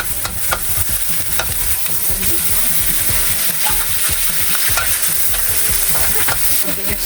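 Onion and garlic frying in a pan as the base for sardine balls, a loud steady hiss and crackle broken by occasional stirring clicks, with no talking.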